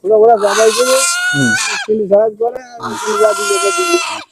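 Loud goats bleat repeatedly in long wavering cries, close by, at a market with chickens, with a brief gap of other animal noise and chatter in the middle.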